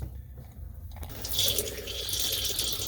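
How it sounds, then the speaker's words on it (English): Water runs steadily from a faucet in a 2012 fifth-wheel camper, starting after a second of quiet and continuing as a broad, hissing rush near the listener. "Run the water till you see antifreeze."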